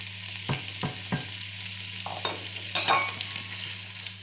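Chopped onion sizzles steadily in a hot pan for a French lentil and salt-pork stew, with a few soft scraping stirs near the start and a brief louder crackle burst partway through.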